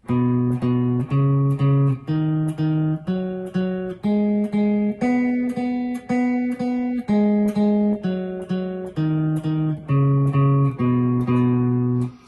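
Guitar notes climb and descend a scale, each plucked twice as even eighth notes in a steady rhythm, clear and close with no talking.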